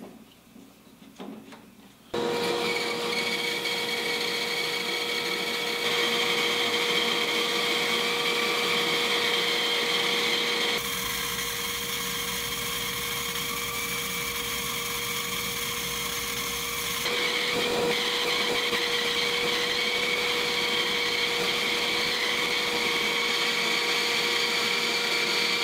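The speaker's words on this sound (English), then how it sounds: "Next, I resaw this board to get the two halves of the insert." A power saw resawing a wooden board, starting with a sudden loud whine that holds a steady, continuous, close drone for over twenty seconds, with slight shifts in tone as the cut goes on.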